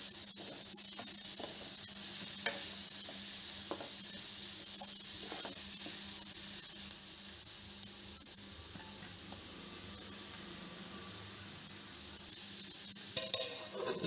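Sliced onions cooking with salt in a covered pan give a steady, moderate sizzle and hiss that runs throughout, with a few faint utensil taps near the end.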